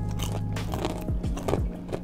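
Someone chews fried cracked conch close to the microphone, a few crunchy bites followed by soft, rhythmic mastication, with no talking.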